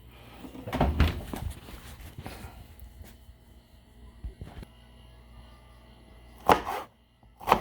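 An oven door opens and closes in a home kitchen while a pan of food goes in, giving a couple of hollow thunks and clanks early on, then quieter handling, and two more sharp bangs near the end.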